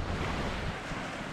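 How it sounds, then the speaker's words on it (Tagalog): Sea waves washing onto a beach with wind buffeting the microphone, a steady close wash of surf noise with no voices. "May alon na talaga."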